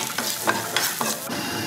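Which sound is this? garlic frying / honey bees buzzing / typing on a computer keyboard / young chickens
garlic frying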